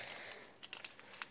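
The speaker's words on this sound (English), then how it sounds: "You can just open up the bag." A plastic bag holding darts from a Nite Finder and Sling Strike unboxing is opened with quiet crinkling, a steady rustle followed by several short sharp crackles spaced irregularly toward the end.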